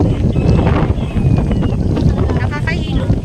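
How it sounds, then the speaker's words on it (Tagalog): Strong wind buffeting a hanging bridge in Baler, roaring and gusting across the microphone with creaks and rattles, while people talk close by throughout. "sobrang lakas ng hangin"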